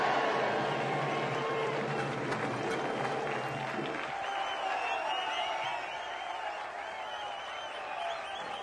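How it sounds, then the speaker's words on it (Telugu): A large crowd at a film screening roars, whistles and applauds loudly, the din of cheering filling the space before easing slightly toward the end. "ఈలలు గోలలు."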